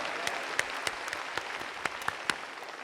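Scattered, sparse handclaps from a church congregation during a Korean Sunday sermon, a handful of distinct sharp claps spaced irregularly over a quiet room, fairly faint and brief.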